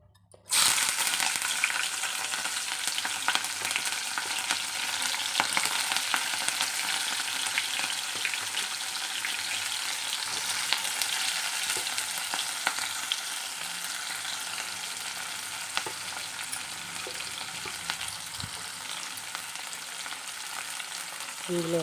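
Chopped green chilies and onions dropped into hot oil for a Telangana amaranth-leaf fry set off a sudden loud sizzle that holds steady and bright, crackling continuously with faint stirring and no talk.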